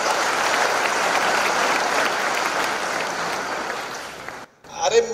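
A crowd at a Marathi lecture on Shivaji Maharaj's history claps hard in a sustained, even roar that tapers and cuts off near the end, followed by a brief stray noise.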